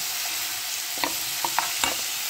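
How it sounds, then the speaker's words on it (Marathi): Sliced bell pepper (capsicum) stir-fried in a pan with spices while making sesame-capsicum paratha, a steady close sizzle broken by a few sharp clicks of the spatula scraping and tossing the vegetables. "आणि यामध्ये आता ही शिमला मिरची घालूया। भाजी छान परतून घ्यायची"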